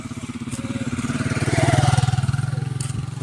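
A motorcycle engine putters in a rural provincial village, a rapid regular chugging that swells louder as it nears midway and then eases slightly, close and clear.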